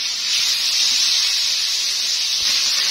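Garlic hits butter and oil left over from frying chicken steak with onions in the pan, setting off a loud, continuous bright sizzle that holds steady, close and alone.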